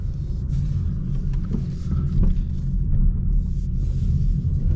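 A 2025 Hyundai Sonata Hybrid rolls through a U-turn in sport mode, a low road rumble and engine drone heard from inside the cabin, steady with a slight swell midway.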